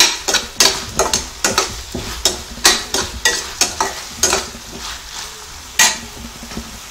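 Cauliflower Gobi Manchurian coated in tomato and chilli sauces gets tossed in a pan: quick, repeated spatula scrapes and clinks in an irregular rhythm over a soft sizzle, close and alone without talk.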